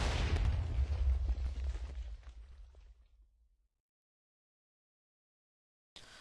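A loud TNT cannon blast in Minecraft, a heavy booming explosion with crackling debris that rumbles on and fades out over about three seconds, then silence before a brief new sound at the end.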